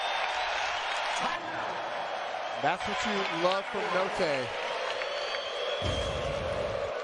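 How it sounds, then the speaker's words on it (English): Basketball arena crowd at an Arkansas Razorbacks game roaring and applauding as a steady wash of noise, with an announcer talking over it. "now this crowd can roar with the Razorbacks up by 5"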